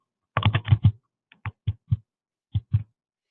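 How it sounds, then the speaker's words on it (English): Typing on a computer keyboard during a Salesforce admin tutorial: a quick run of close key clicks, then scattered single taps with short pauses, crisp in a quiet room with no speech. "Because I'm just going to be typing and copying and pasting for a moment."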